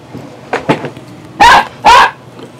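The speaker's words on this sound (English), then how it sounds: "The dog has gone mad in the laboratory." A dog barks indoors: a few lighter yips come first, then two loud, sharp barks close to the microphone.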